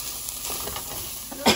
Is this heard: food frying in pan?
yes